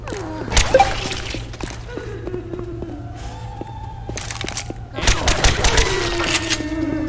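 Rapid volleys of gunfire in the zombie shooter Left 4 Dead 2, Urban Disaster expert campaign, with loud bursts of shots near the start and a denser barrage after a quieter stretch, with in-game voices and effects mixed in.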